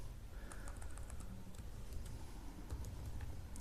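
A class name is typed on a computer keyboard in quick, light keystrokes, faint and close over a low steady hum.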